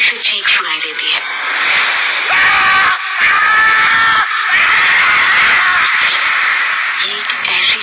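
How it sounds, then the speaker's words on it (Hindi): A writer lets out a loud, drawn-out scream in a Hindi horror audio drama about a witch, harsh and shrill over noisy effects, broken by brief gaps. "कुछ देर बाद लेखक की एक जोर से चीख सुनाई देती है।"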